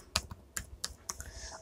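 Typing on a computer keyboard, a handful of distinct, close key clicks spaced irregularly, followed by a faint electronic tone.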